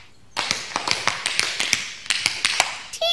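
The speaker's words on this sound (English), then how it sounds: "my shoes are making noise" Shoes tapping on a hard floor in a class, a rapid, irregular run of sharp, close taps lasting about three seconds, with no talking.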